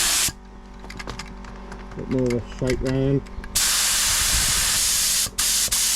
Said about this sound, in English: we're spraying air now.